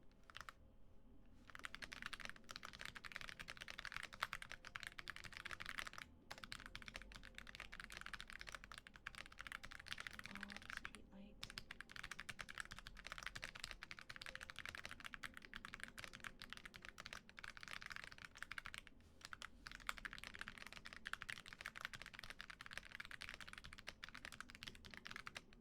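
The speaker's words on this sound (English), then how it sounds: "I like typing." Soft, rapid typing on a computer keyboard in a quiet ASMR setting, a continuous patter of clicks with brief pauses, close but faint.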